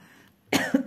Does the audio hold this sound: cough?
yes